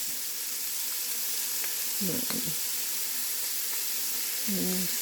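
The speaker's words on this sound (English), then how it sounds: "Then I'm going to add in my minced garlic." Minced garlic dropped into a soup pot with peppers for sausage, potato and kale soup, hissing in a steady moderate sizzle while a voice murmurs briefly twice.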